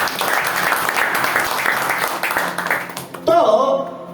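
A church congregation in Tripura claps in a steady, dense round of applause that fills the room, ending as a voice breaks in over it.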